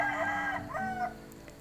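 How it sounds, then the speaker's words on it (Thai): A single rooster crows once, a rising then falling call, moderately close, fading into quiet morning background. "มีเสียงไก่ขันด้วย"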